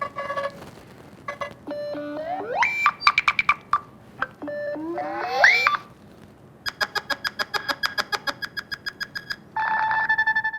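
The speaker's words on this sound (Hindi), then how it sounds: "और हाँ, रिंगटोन्स, ये देखिए अब यूनिक से रिंगटोन्स।" Several Nothing Phone (4a) ringtones play one after another: bright electronic chimes and rising synthetic sweeps, then a fast run of rhythmic beeping pulses and a sustained tonal melody, clear and close with no talking.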